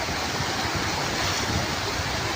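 Floodwater rushing over ground after a flood with no rain, a steady, loud broadband roar with wind buffeting the microphone, continuous throughout with no voices.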